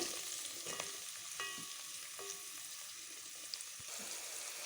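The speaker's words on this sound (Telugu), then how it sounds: "జీడిపప్పు కూడా ఇందులో ఉల్లిపాయలు కూడా వేసుకున్నాం ఇవి బాగా ఫ్రై" Onions, bay leaves, cardamom and cashews frying in a pan, a soft steady sizzle with a few light scrapes and clinks of stirring, fairly faint and with no talking.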